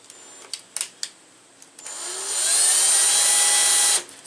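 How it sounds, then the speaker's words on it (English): A power drill drives a first screw into a smooth metal door during a lock installation, with a few clicks and short bursts before a steady, loud whirring run of about two seconds that then stops. "So let me put my first screw in,"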